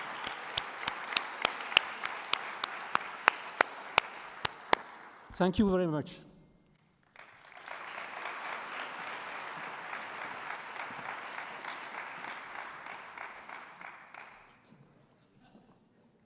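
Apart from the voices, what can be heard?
audience applause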